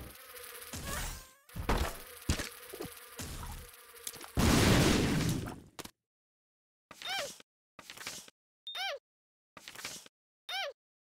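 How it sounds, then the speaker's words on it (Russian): Buzzing flies in the video game The Binding of Isaac: Repentance, heard as a run of short, repeated wavering buzzes after a stretch of busy game noise, fairly close and alone. "Муха."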